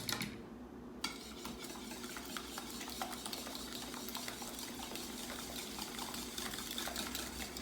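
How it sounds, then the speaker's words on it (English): Eggs being whisked for a double chocolate pudding as hot liquid is streamed in, a rapid continuous metal-on-bowl clatter that stays close and steady throughout with no talk. "we're gonna whisk these eggs"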